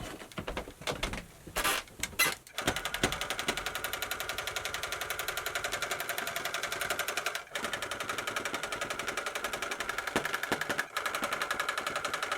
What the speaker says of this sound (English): I'm pushing my gun all the way in before I start it. I got to turn the power on though.